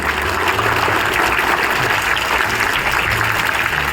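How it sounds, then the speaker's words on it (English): Loud, sustained round of applause from a school assembly at an investiture ceremony, many hands clapping in a thick continuous roar with no break. "please give yourself a huge round of applause"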